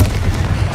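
A single Confringo fire-spell explosion from Hogwarts Legacy, a deep booming blast with heavy low rumble, lasts under a second, close and loud, with no talk over it.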